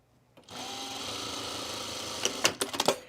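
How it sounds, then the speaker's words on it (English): Home sewing machine stitching the side seams of a cotton pajama waistband, a steady close whir running alone, then a few sharp clicks and knocks near the end as the stitching stops. "I'm doing the side seams of my waistband now."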